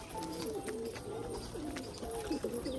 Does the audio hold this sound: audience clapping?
no